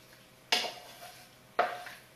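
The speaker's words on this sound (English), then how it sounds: "I'm scraping sauce" Tomatillo sauce is scraped from a pot into a baking dish for a zucchini casserole, two distinct scraping knocks of a utensil against cookware, each fading quickly, over a quiet kitchen background.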